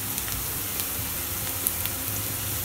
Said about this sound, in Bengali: এবার আমি আস্ত জিরা দিয়ে দিচ্ছি।